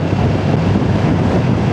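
Steady, rough wind buffeting a microphone on a BMW F900R motorcycle riding behind a car, a continuous low roar with no breaks, loud and close throughout.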